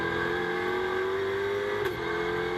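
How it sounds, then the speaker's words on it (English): A GT2 race car at a Fanatec GT2 Series race in the Algarve, engine note steadily rising under acceleration, then a brief dip as it shifts gear, loud and close throughout, no voices. "Grabs a gear and goes down towards the hairpin at 5 then as Gulinks is under attack."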